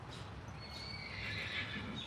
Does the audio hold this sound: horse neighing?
yes